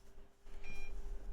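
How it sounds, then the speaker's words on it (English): An AT&T 6300 computer gives a short electronic beep on power-up, a brief thin tone over the low hum of its running fan, heard close and alone. "I like the beep though."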